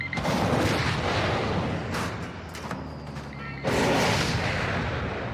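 A missile strikes an enemy supply drop aircraft in Call of Duty MWII, a loud booming explosion with a long rumbling roar, then a second heavy blast around the midpoint that rolls on to the end.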